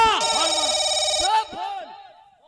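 A loud old-style telephone bell rings insistently for about a second in a Hindi comedy scene; a voice then calls out over the fading ring.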